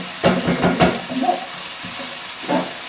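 Ginger paste frying in oil in a home kitchen pan, with a few loud scraping stirs and tossing bursts near the start, then quieter sizzling and another stir toward the end.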